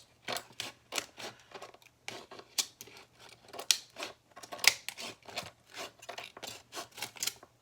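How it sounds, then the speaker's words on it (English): Scissors snip through the thin metal of a can in quick, irregular crisp cuts with short pauses between them. The room is quiet and no one speaks. "now I'm cutting curving metals."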